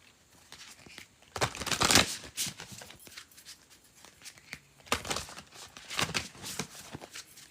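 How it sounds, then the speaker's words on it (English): A deck of oracle cards is shuffled close by, giving soft riffling and papery slaps in two or three bursts with quieter handling between them. "So I'm going to shuffle"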